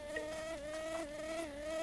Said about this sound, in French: Et pour l'accompagner, voici un moustique.